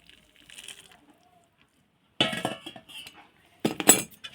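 A metal utensil scrapes and clinks against a pot while sugar syrup is stirred into roasted semolina for rava pak, a few short close bursts of clattering separated by quiet gaps.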